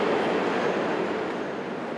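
Dense, even roar of a Moscow metro subway train in motion, a broad rumbling rush heard from inside, steady throughout with no voices.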